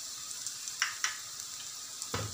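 Onions and dry spices frying in oil in a pan for dahi tadka, a steady close sizzle with a few soft stirring scrapes and clinks, no voice.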